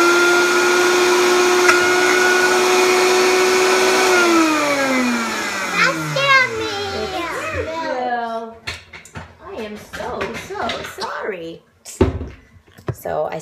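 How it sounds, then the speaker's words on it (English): A Vitamix blender whirs loudly and steadily on chimichurri for about four seconds, then its pitch falls as it winds down. Afterward someone talks close by while the jar clatters and knocks. "So I see with it being the first time using the Vitamix that we need to use our little pulser like thing."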